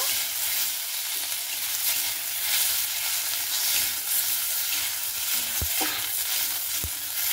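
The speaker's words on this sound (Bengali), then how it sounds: "টমেটোটাকে দিয়ে দিচ্ছি। এবার ভালো মতো করে নাড়াচাড়া করে নেব।" Green chilies and tomatoes frying for a cauliflower curry, giving a dense, continuous close sizzle with a couple of sharp spatula knocks near the end.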